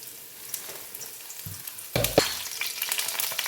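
Mustard seeds, two dried red chillies and curry leaves dropped into hot oil for a raw banana and green gram thoran, a quiet sizzle jumping into a louder, crackling fry with brief pops that keeps going.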